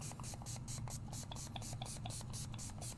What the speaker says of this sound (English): I'm going to grab my Hydrangea Matte Mist, and I'm going to spray it pretty liberally